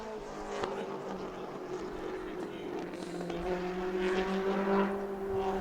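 Mod Mini race car on a qualifying lap at New Smyrna Speedway, its engine a faint, distant buzzing drone that rises and swells toward the end, with track ambience around it.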